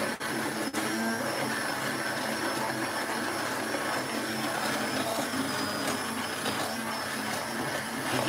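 A kitchen blender purees homemade comfort food in a steady, loud whir that runs unbroken throughout, with a brief dip near the start and no talking.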